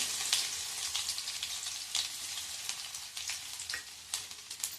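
Finely chopped garlic cloves sizzling in oil with spluttering mustard seeds for Konkani horse gram pithla, a soft steady crackle dotted with sharp pops, quiet and close, no voices.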